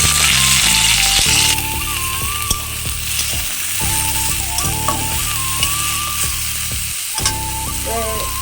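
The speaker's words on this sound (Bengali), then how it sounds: "তো ওই তেলের মধ্যে ফুলকপি দিয়ে দেবো, ফুলকপিটা একটু ভালো করে কষে নেব।" Cauliflower sizzling steadily in hot oil, close by, with occasional stirring clicks while tonal background music plays throughout, for a vegetable khichdi.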